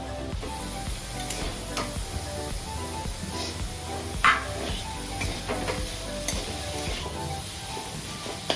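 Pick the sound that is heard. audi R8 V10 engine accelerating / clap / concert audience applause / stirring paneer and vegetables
stirring paneer and vegetables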